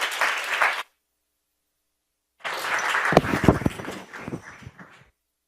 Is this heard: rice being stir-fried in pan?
no